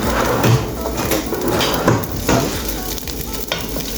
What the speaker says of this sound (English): I'm browning the garlic a little bit